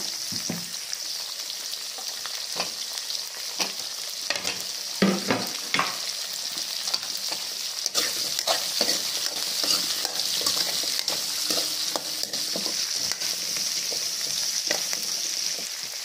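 Raw mango pieces drop into a pan of fish curry with fenugreek, setting off a steady, bright sizzle and frying hiss close by, with occasional stirring scrapes and clinks throughout.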